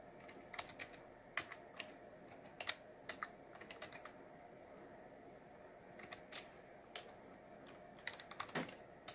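Someone types a telnet login on a computer keyboard: irregular light key clicks in short flurries and single taps, quiet and close against a steady fan-like hiss, with no talking.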